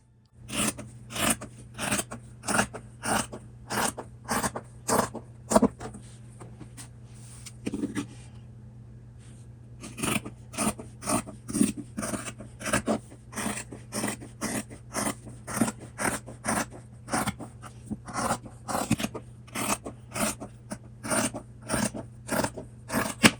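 Scissors cutting fabric at close range, with a rhythmic series of crisp snips and rasps repeated steadily, a brief pause midway before the cutting resumes; no talking.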